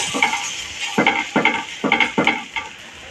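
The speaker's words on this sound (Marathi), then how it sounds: "अप्पे पात्र अप्पे घालताना नेहमी साईडने घालायचे कारण मध्ये अप्पे पात्र तापलेलं असतं" Batter of sprouted lentils sizzling as it is spooned into a hot appe pan, with repeated crackling bursts at a steady rhythm and light metallic clinks over a constant hiss, heard up close.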